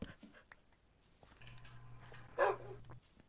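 A dog in the video game Minecraft gives a couple of short barks and yips, fairly faint, with a steady low hum beneath and a brief louder burst midway.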